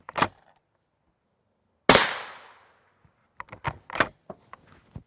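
A 22 Creedmoor rifle, a 24-inch Savage 110 Tactical, fires one sharp loud shot that rings out and fades over about a second, with short clicks and knocks from handling before and after.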